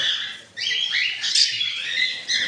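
Lovebirds in a bird shop give off dense, overlapping high chirps and squeaky calls that run continuously through the whole stretch, with no speech over them.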